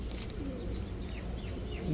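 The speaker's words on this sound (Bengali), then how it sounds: "এই যে দেখেন ফ্লাইং করা একটা কবুতর কালদম কবুতর" Kaldom pigeons at a pigeon fanciers' club coo softly in a short, faint burst with a few light chirps over a low background hum.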